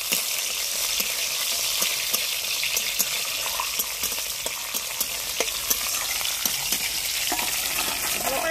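Whole spices and cumin seeds fry in hot oil while being stirred, a loud and continuous close sizzle with light scraping strokes running throughout.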